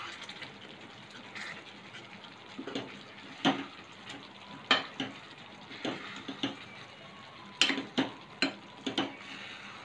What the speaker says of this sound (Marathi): आता आपण हा वांगा जरा परतून घेऊया